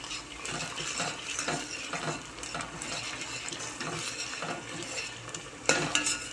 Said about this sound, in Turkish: Şöyle bir salçasını kavuralım yemeğimizin